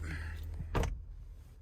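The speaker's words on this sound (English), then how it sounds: "we have power retractable running boards that drop down whenever we open up one of the doors" A low motor hum runs throughout, with a brief whirring mechanical clunk as a 2023 Cadillac Escalade V's power retractable running board drops down; a voice is faintly heard at the start.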